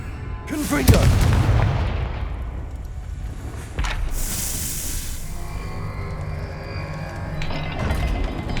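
A Confringo fire spell in Hogwarts Legacy, cast inside Salazar Slytherin's maze, sets off a loud booming blast near the start that rumbles on, with a second sharp burst midway and low game ambience throughout.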